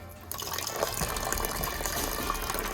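Clean water rushing through a rabbit-hutch nipple drinking pipe, a strong continuous gushing flow that starts abruptly and stays loud and steady.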